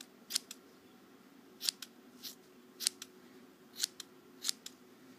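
Scissors snip yarn while trimming a crocheted button bunny, several quick, crisp close cuts in loose irregular succession, some in doubled snips, over a quiet room.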